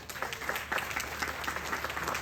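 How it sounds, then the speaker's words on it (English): An audience at an outdoor Ramayan in the Park gathering gives the youths a round of applause, a steady mass of hand claps with distinct individual slaps standing out, fairly quiet and even throughout. "I also want all of you to please give a round of applause for our youths this morning"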